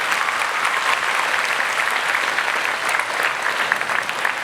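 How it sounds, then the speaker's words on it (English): Steady, dense applause from a large graduation audience at a magnet high school ceremony, a continuous even clatter of many hands lasting several seconds with no voices standing out. "I want you to give again another applause to your teachers, your parents, and your principal"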